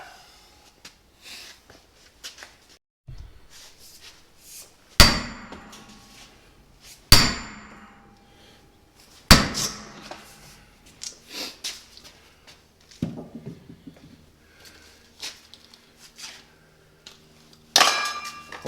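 Hammer strikes on a Hub Buster tool driving a rusted, stuck wheel hub out of a Subaru knuckle: four loud, sharp metallic blows spaced a couple of seconds apart, each ringing briefly, with quieter clinks and shuffling between them and a final hit at the end.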